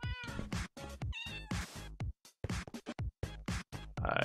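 Cats from a Minecraft cat spawner meow over and over in close, clear bursts, one cry quickly following another with short silences between.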